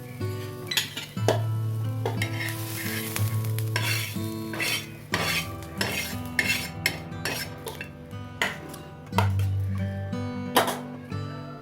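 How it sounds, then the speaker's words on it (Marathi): Onion browning in hot oil while being stirred, with frequent clinks and scrapes of a metal spoon against the pan over a steady sizzle. "कांदा व्यवस्थित तेलामध्ये भाजून घेऊया।"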